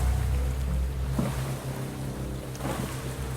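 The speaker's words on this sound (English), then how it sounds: "I'm noticing that the paddle sound here seems to be either the same or quite similar, regardless of how many strokes I take in the water." A wooden paddle stroking the water beside a small boat in the survival game Stranded Deep. Two separate splashing strokes land over a soft bed of waves and wind, with no talk.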